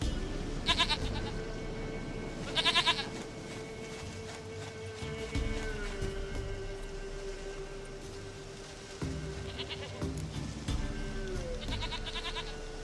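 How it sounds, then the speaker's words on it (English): A goat bleats in The Witcher 3 game, several short quavering calls spaced apart across the scene, fairly close, over a low ambient game soundtrack with faint hoof-like clops. "Goat of mine, dearest, sweetest goat."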